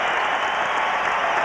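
A basketball arena crowd applauding Knicks point guard Charlie Ward as he leaves the game, a dense, steady roar of clapping held at an even level throughout.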